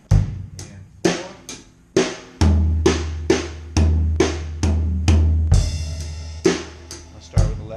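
Drum fill built on the paradiddle rudiment: a series of crisp snare and tom strokes with kick drum hits underneath, played at a steady, moderate tempo, loud and close.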